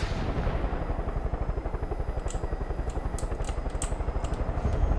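Helicopter in the video game Far Cry 5, a loud, steady, rapid rotor chop thumping close by throughout, with a few brief sharp clicks and bursts on top near the end.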